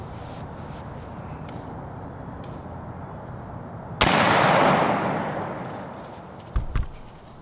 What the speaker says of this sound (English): The buck cruised by the stand and presented Mark with a perfect quartering away shot